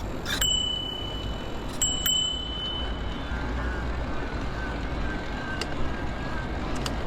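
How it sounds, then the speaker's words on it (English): Bell on a Careem rental bike in Dubai, a few sharp dings near the start and around two seconds, then fainter later rings over steady street and traffic noise outdoors. "I found the bell on this one."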